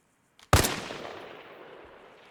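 A single sniper rifle shot fired at 500 meters in the video game Arma Reforger, a sharp loud crack followed by a long rolling echo that slowly fades out.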